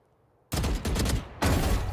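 Gunfire in the tactical shooter Valorant during a collegiate esports match: silence breaks into loud, close bursts of shots, a brief pause, then another burst, with no talk over it.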